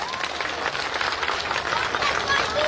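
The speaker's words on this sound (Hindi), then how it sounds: "मैं सभी साथियों से अनुरोध करूंगा कि रामू कश्यप जी का तालियों के साथ स्वागत किया जाए।" Applause and cheering from a crowd at an outdoor Congress party election rally in a village, welcoming a local leader, a steady dense clapping wash with no talk over it.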